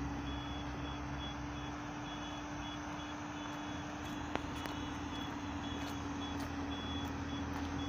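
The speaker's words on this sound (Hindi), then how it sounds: "अभी देख सकते हो भाई ट्रकों की आवाज़ आ रही होगी आपके लिए" Trucks at a road construction site sound steady reversing beeps over a constant low engine rumble, heard from a moderate distance with no talking.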